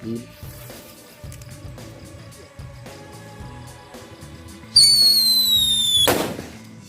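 Colored roman candle fireworks go off at a Ramadan celebration, starting with soft crackles and pops, then a loud rising whistling whoosh and a sharp burst that fades into hiss.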